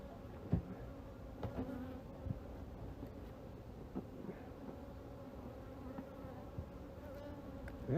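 Honeybees buzz in a continuous low drone during a hive inspection, with occasional soft knocks and clicks of equipment, close by with no talking.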